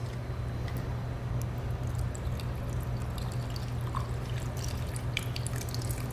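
A shaken cocktail streams from the tin into a glass, a steady close pour with faint drips and small clinks over a low background hum.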